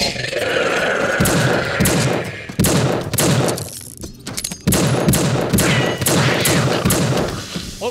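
Rapid, dense video-game gunfire as the Scout from TF2 shoots, loud and near, with bursts of shots running almost continuously and brief lulls between volleys.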